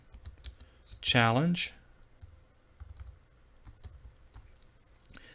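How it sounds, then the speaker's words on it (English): Typing on a computer keyboard, with scattered light key clicks at close range. A person speaks briefly near the start, and the tapping continues quietly afterward. "Maybe hard for you to see as I'm typing"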